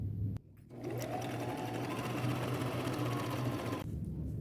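A sewing machine stitches pillow cover pieces onto a reversible collage jacket made from two shirts, running in one steady, close, continuous whir for a few seconds after a brief pause.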